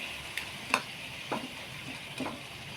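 Spatula scrapes and stirs ingredients sautéing in a frying pan, a few brief distinct strokes over a soft steady sizzle, close and fairly quiet with no voices.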